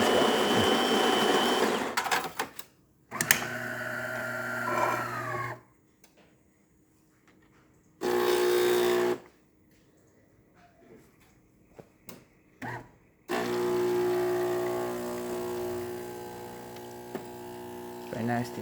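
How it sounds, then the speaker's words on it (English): A DeLonghi espresso machine, just serviced, pulls espresso shots, its pump buzzing loudly in several bursts of varying length with quieter gaps between them. "we're going to see a little bit of slower water flow coming out of the spouts"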